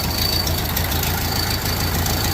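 Ford Model A engine in a pickup idling steadily on all four cylinders, a continuous close low rumble with a faint knocking texture throughout and no talking.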